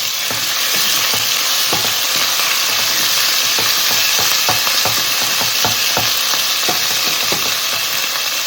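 Chicken breast frying in a hot pan in a home kitchen, a constant bright sizzle with scattered crackles and scraping stirs throughout, close and loud, with no talking.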